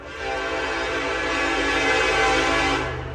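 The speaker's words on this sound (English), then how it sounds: "Here comes the train. It's gonna be loud for a second." A train roars past close by near a river, a loud broad rumble and rail noise that swells and holds steady for several seconds, with no talk over it.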